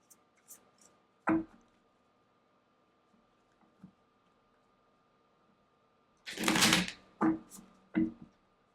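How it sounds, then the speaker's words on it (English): Tarot cards are shuffled and pulled in a quiet room: a few short, crisp card flicks and snaps, then a burst of riffling followed by two sharp slaps of cards being set down. "we're just pulling clues before we start pulling these cards on this reading"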